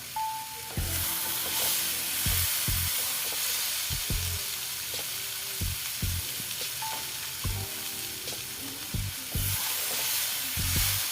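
Ghugni, a pea curry, sizzles in a covered pan, a continuous loud hiss broken by repeated low clanks and scrapes of the lid and spoon.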